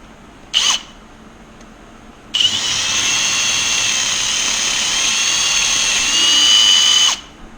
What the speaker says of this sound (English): You've got to drill the pilot hole and then a few sizes in between.